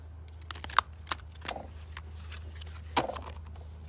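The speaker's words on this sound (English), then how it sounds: "I'm going to shuffle one more time" A deck of cards riffled and shuffled by hand during a tarot-style card reading, giving scattered quiet flicks and snaps with a brief louder burst near the end over a low steady hum.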